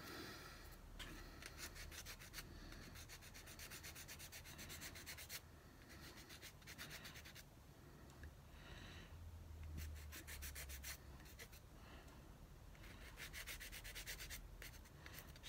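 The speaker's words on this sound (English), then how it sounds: "just with a sanding stick." A sanding stick rubs chrome plating off a plastic part of a 1:9 Italeri Norton model motorcycle, producing a steady, close, continuous scratchy rasping with rapid back-and-forth strokes and brief pauses, alone without talk.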